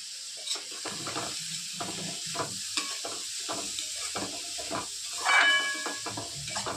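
Tomatoes and carrots sizzle in a hot pan while being cooked for momos, a steady hiss with repeated stirring scrapes and a louder sputter of frying near the end.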